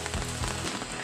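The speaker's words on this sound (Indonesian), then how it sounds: "sampai sekarang ini sekitar jam 8 lebih pun masih hujan" Heavy rain falls steadily during a flood, a dense, constant hiss of drops with a few low thumps, close and loud, no voices.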